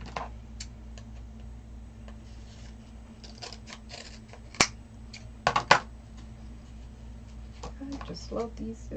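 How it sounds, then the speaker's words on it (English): Scissors snip through thick canvas ribbon with glitter, giving a few crisp cuts against a quiet room with a low hum; most of the snips come together in a brief cluster. "I just love these scissors. This is a thick canvas ribbon."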